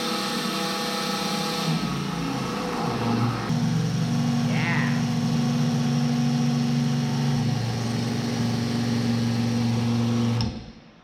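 A Fill-Rite fuel transfer pump on a refurbished slip tank runs with a steady, loud motor hum, changing pitch a few times as it primes and draws fuel, then cutting off abruptly near the end.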